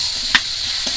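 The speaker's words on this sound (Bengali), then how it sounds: "এবার মাছটা ভেজে নেব" Prawns coated in salt and turmeric fry in a pan with a steady bright sizzle, broken by a short scraping stir near the start and a softer one at the end.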